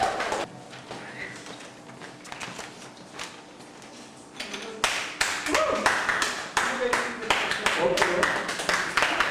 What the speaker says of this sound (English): as they come up, you give them a round of applause